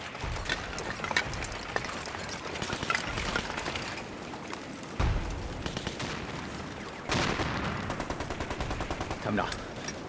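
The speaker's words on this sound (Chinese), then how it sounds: "你听见没有？ 枪声，战斗没有结束" Battle gunfire from a wartime fight against Japanese troops, with rapid bursts and scattered shots crackling at a moderate distance in repeated volleys, while faint voices sound underneath.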